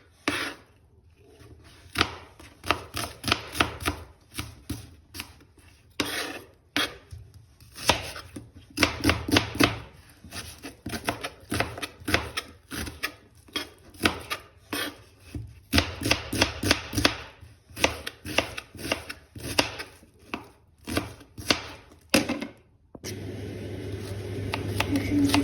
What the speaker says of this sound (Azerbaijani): Gördüyünüz kimi bu şəkildə doğrayıram.